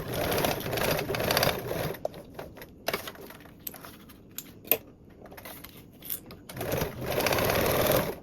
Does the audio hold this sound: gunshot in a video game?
no